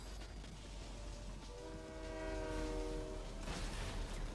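A passing train in the video game Fortnite sounds a sustained, tonal horn over a steady mechanical rumble, swelling in the middle and then fading, with no talking.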